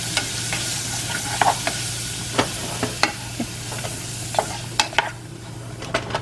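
Vegetables sizzle in a pan for Spanish rice, while a spoon scrapes and taps in repeated sharp strokes over a low steady hum.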